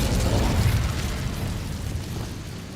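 In Hogwarts Legacy, the Incendio fire spell lets out a loud whooshing burst of flame that roars briefly and then fades out over a few seconds.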